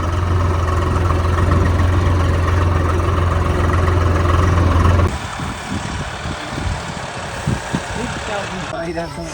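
A 5405 CRDI tractor engine runs on a farm with a loud, steady low rumble that shifts midway into a rougher, uneven chugging. Voices are heard in the background.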